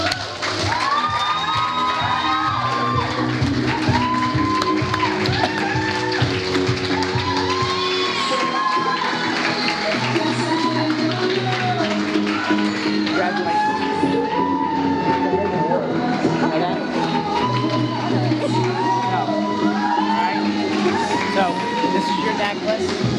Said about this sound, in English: would you please give a huge round of applause for Jay O'Connor.